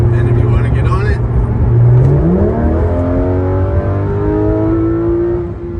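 A 2016 Porsche 911 GT3 RS accelerates hard from inside the cabin, its engine revving loud and climbing through the range with a gear change, a voice talking over the start.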